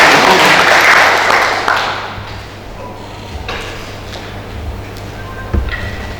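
Audience applause at an Indonesian book discussion event on cooperatives, loud and dense at first, then thinning and fading over several seconds.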